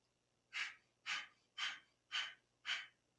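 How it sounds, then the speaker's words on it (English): Kundalini yoga breath of fire: rapid navel-driven belly breathing produces five evenly spaced, sharp nasal breath bursts about half a second apart, close and fairly soft, with no speech. "we're going to use breath of fire. So remember, there are rapid navel belly breathing"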